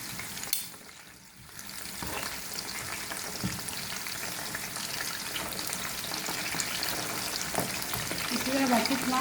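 Chicken pieces sizzle steadily in hot oil in a pan, a continuous close frying hiss broken by scraping and knocks as the pieces are turned one by one.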